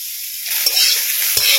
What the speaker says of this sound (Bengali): কাজু দিয়ে একটু ভাজা ভাজা করে নেব।